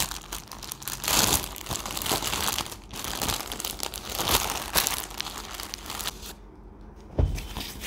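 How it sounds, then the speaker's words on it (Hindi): Plastic parcel packaging for a dress is crinkled and torn open up close, with continuous loud rustling and crackling bursts and a brief quieter pause near the end. "ओके गाइस तो नेक्स्ट पार्सल को अनबॉक्स करते हैं"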